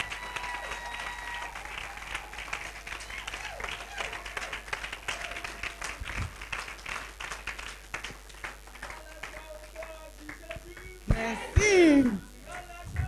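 Audience applause in a TV studio welcomes a couple onto the set, moderate scattered clapping running throughout, followed near the end by a louder burst of movement and a voice.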